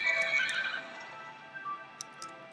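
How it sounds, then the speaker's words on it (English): Horse neighing in a Minecraft horse stable, a fairly faint whinny at the start followed by a few soft hoof clops and small knocks, with no one talking. "this is my horse stable. I've got plenty of horses."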